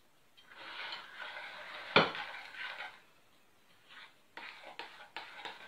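Flour worked little by little into cozonac dough in a bowl, with scraping and knocking strokes against the dish, one sharp clack midway, then quieter intermittent stirring, close and moderately faint with no talk.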